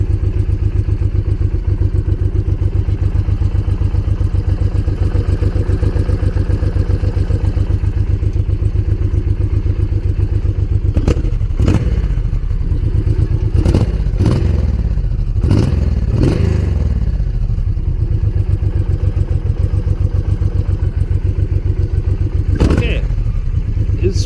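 Honda VTX V-twin motorcycle engine idling after a spark plug change, a steady loud low throb throughout with a few sharp clanks and knocks over it, voices speaking alongside.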